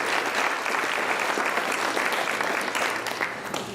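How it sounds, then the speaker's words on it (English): Sustained applause from a crowd, a dense steady clatter of clapping hands throughout, loud and close, tapering slightly near the end. "Please give him a round of applause."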